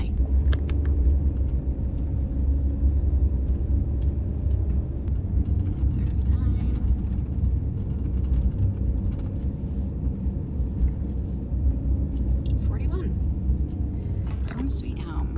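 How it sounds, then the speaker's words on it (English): A car idles and rolls slowly through a state park campground on the Oregon coast, with a low steady engine rumble and a few small clicks and bumps, while someone speaks quietly at times. "I'm just driving through the park campground looking for A41"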